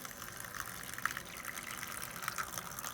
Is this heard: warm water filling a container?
yes